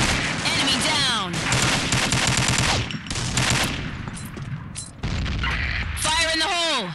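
Rapid, loud fish-gun fire in the Combat Arms video game, with dense bursts of automatic shots, booms and descending whistling tones, broken by a short lull and then another barrage.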